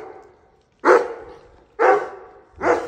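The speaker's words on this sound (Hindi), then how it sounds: "इस पे आजकल ब्रूनो बड़ा गुस्सा करना शुरू हो गया" Indoor dog barking angrily, three loud, sharp barks spaced about a second apart, each with a brief trailing decay, close to the listener and with no speech.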